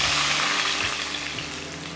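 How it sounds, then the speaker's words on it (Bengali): Strained spice paste hits hot tempering oil with crushed cardamom for a Bengali fish curry, giving a loud, continuous close hiss and crackle that eases slightly over two seconds. "ফোড়নের সুগন্ধ বেরিয়েছে, এবার এতে ঢেলে দিন আগে থেকে ছেঁকে রাখা মশলা"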